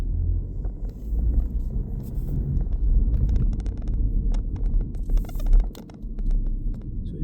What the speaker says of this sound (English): it actually does not sound like a diesel. It sounds like a petrol